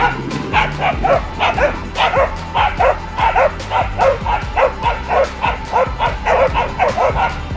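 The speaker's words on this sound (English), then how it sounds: "Dogs are just straight down below us." Several small dogs yap rapidly and continuously from straight below, a dense chorus of high barks, with low background rumble underneath.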